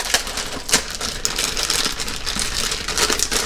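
Hands tear open a plastic package of frozen broccoli, a steady crinkling rip with bright, crackly bursts, close and fairly loud, no talk.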